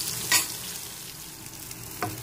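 Long eggplant strips fry in hot oil in a pan, making a continuous soft sizzle marked by two brief louder spatters as they are turned.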